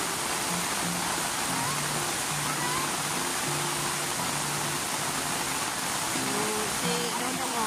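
Strong river current rushing in a steady, loud broadband wash, with faint tonal sounds and possible distant voices under the flow.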